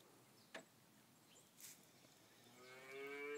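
Baby cow on a farm lowing, a faint rising moo building toward the end after a couple of soft thumps, fairly close and otherwise quiet.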